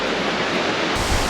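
Choshi waterfall in Niihama, Ehime, a steady broadband roar of falling water close by, loud and continuous, with a sudden deeper rumble near the end.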